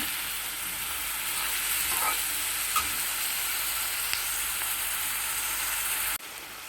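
Onions frying in a pan for a chicken curry, a steady broadband sizzle that holds at an even level throughout with a few faint clicks, dropping off abruptly near the end.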